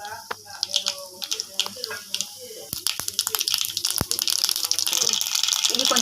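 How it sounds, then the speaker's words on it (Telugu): Mustard seeds and cumin hit hot oil in a pan, giving sharp crackling pops and spits that grow denser into a steady sizzle. "ఇప్పుడు మనం ఆవాలు, జీలకర్ర వేసేద్దాం."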